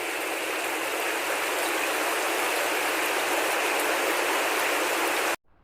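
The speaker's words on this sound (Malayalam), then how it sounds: "പെരും മഴ എല്ലായിടത്തും." Heavy rain pours down around an Eicher truck driving at night, a dense, steady hiss that roars without pause before cutting off abruptly at the end.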